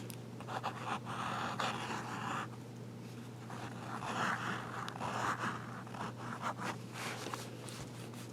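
Noodler's Ahab fountain pen nib scratching across paper with added pressure, close and quiet, in a series of short rustling strokes with brief pauses under a faint steady hum.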